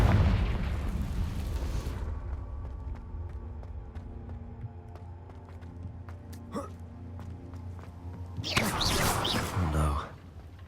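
Fiery Confringo spell blasts in the Hogwarts Legacy video game: a loud burst fades into quiet ambience with scattered clicks and a sharp pop, then a second strong explosion bursts out and dies away.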